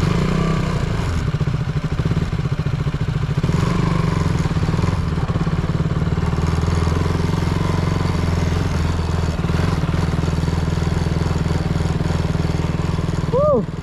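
A KTM Duke 200 BS3 motorcycle idles and revs at close range during stunt practice, a steady engine drone with occasional rising revs and clatter, while people talk faintly in the background.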